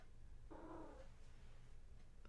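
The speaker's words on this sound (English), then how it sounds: "My cat is going to visit us now, apparently." Pet cat giving a brief close vocal sound, a single purring meow lasting about half a second against a quiet room with low hum.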